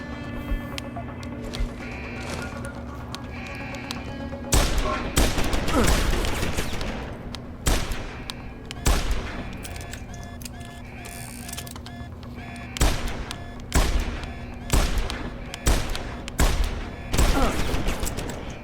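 Bursts of gunfire in the video game Deus Ex: Human Revolution, loud repeated volleys with gaps between them over a steady mechanical hum, with no talking.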